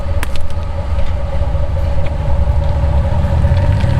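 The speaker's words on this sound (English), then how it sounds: "we've got the light tied to the back of the truck. She's gonna drag it behind the parking lot too." A truck drags an Olight Perun Mini flashlight, tied behind it on a rope, across a parking lot: a steady, loud, low rumble of engine and road noise with a continuous rough scraping wash on top.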